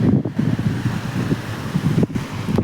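Sea waves wash onto the shore at Gomti Ghat in Dwarka, a continuous rushing surf heavily mixed with wind buffeting the microphone, with a couple of short dips in the roar.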